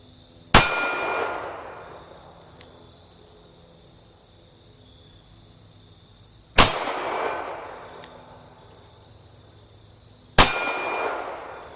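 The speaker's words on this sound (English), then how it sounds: "Gonna be shooting at the left target." A Taurus 942M revolver fires three spaced single shots at steel targets outdoors, each a sharp crack followed by a bright ringing clang that decays slowly, with crickets chirping faintly in the background.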